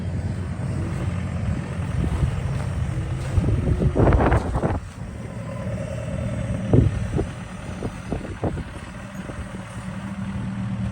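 Wind of about fifteen miles an hour buffets across a farm, a constant rushing rumble with gusty bursts and a few knocks and clatters, close and fairly loud.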